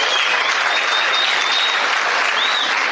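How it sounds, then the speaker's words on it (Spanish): Loud, dense applause from a crowd of students at a Spanish-language seminar, continuous and even for the whole stretch, with a few faint whistles above the clapping. "Un aplauso, muchachos."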